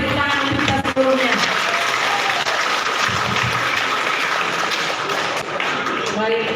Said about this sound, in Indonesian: Terima kasih tepuk tangan untuk kita sebelumnya.